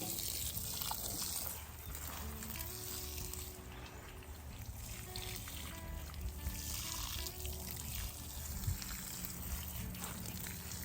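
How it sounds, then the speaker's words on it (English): Collected rainwater poured over raised-bed garden plants, a steady close trickling and splashing that runs unbroken for about ten seconds with outdoor ambience behind it. "got my rainwater, and I'm just water them in."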